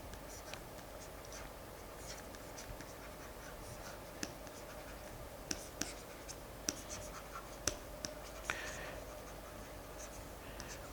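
Pen or chalk scratching out the Lagrangian for a general system during a lecture on small oscillations, a faint, steady patter of strokes with a few sharper ticks, quiet and close with no talking.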